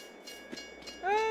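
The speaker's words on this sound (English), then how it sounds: "Oh no! The trains are coming!" A train in Farming Simulator sounds its horn, a rising tonal blast entering near the end after a few soft rumbling thumps of the passing cars.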